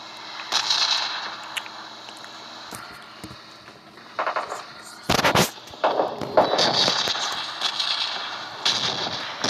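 Loud, sharp explosion bursts in PUBG break out amid steady game background noise, with several booming blasts clustered in the second half.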